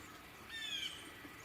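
Magnolia warbler giving a brief, thin high call once, faint against steady outdoor background noise.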